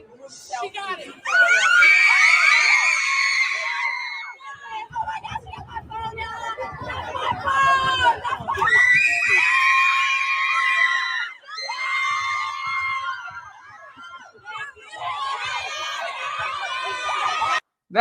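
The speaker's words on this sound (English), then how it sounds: "You can hear the shrieking kids." Shrill, sustained shrieks from a crowd of kids at a WNBA game, loud and rising in long waves with short breaks, over arena crowd noise.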